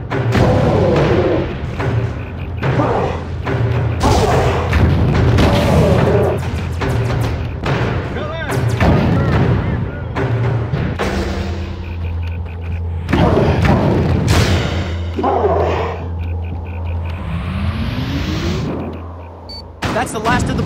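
Bombs going off in The Incredible Hulk video game, a string of heavy booms and thuds over a continuous low rumble and game music, loud and close, with some explosions stacking quickly on top of one another.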